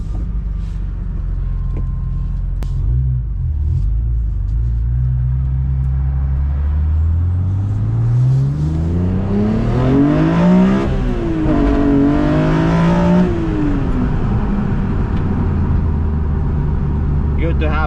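Car engine running hot after a redesigned CSL airbox install, revving up through rising pitch while driving on the road, loud and close with a steady rumble throughout.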